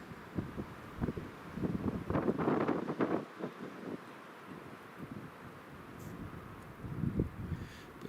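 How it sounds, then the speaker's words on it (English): Gusty wind buffeting the microphone outdoors at an airport during Storm Otto, rough low rumbling surges that rise, ease off and return, close and fairly loud with no voices. "you can hear that the wind is dying down now"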